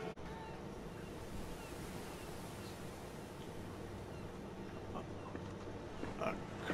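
Ocean waves wash continuously during a sea crossing in Monster Hunter Rise: Sunbreak, a soft, even surf rumble with a gentle swell near the end.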